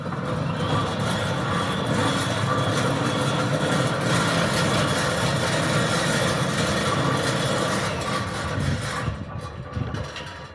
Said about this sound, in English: I'm just going to quickly sit here close to the gate motor so you can see there's no vibration on it